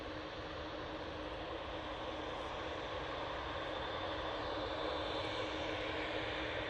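Steady, broadband roar of a Ryanair airliner's jet engines at Manchester Airport, constant and fairly distant with no talking.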